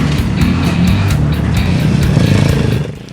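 A KTM military motorcycle racing off-road, its engine blaring close and loud with rapid revving and repeated gear-change bursts, fading slightly at the end.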